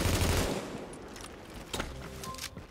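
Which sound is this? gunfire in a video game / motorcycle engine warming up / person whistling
gunfire in a video game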